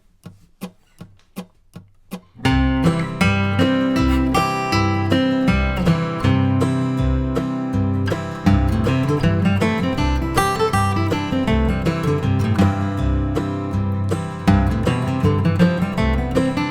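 A bluegrass guitar plays a steady scale run over a full Strum Machine backing track, after a few sharp ticking clicks count in alone at the start.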